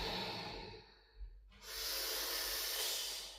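A long, deep exhale during a vinyasa yoga class, heard close and breathy, then a fuller hissing rush of air after a short pause, with no talking.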